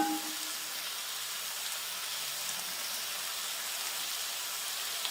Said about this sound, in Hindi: छह सात मिनट फ्राई कर लें।